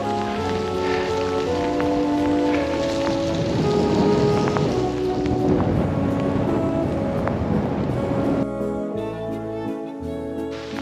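Rain falling steadily outdoors in the countryside, a continuous patter of drops on surfaces heard close, with tonal background sounds running under it and the patter dropping away near the end.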